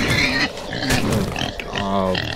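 Loud, close grunting and squealing oinks come from a pig monster in a horror video game, several throaty voiced bursts in quick succession that fill the stretch with only brief gaps.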